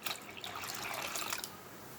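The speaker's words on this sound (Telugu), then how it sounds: "కిలో బియ్యానికి దీంట్లో లీటర్ వాటర్ పోసుకోవాలి దీంట్లో మూడు లీటర్ వాటర్ పోసుకోవాలి" Water pours into a pot to make rice rava vadiyalu, a brief, soft, close splashing trickle lasting about a second and a half before it fades.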